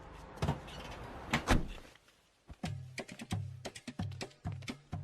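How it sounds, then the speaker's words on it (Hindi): A door shut from outside, a couple of heavy thuds followed by a rapid run of knocking and latching clunks, close and fairly loud, with no speech. "तुम बाहर से दरवाजा बंद कर दो"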